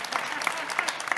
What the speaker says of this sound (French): Faites bien une petite main d'applaudissement pendant que je déchire ma feuille d'amour.